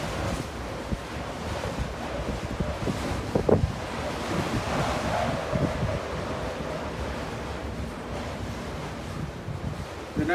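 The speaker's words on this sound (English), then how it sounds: "it's so windy." Strong wind buffets the microphone in a continuous roar atop Portsmouth Tower, with waves and surf washing in the background; no talking.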